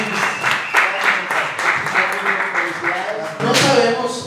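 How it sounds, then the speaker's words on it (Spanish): A crowd at a posada gathering breaks into applause, a string of quick overlapping claps that swells again near the end, with voices talking over it. "Con un aplauso."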